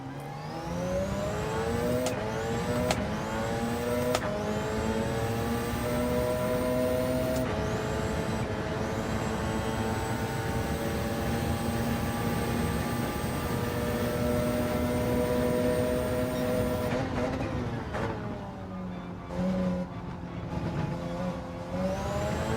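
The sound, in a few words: Porsche hybrid race car lapping Monza in Gran Turismo 7 video game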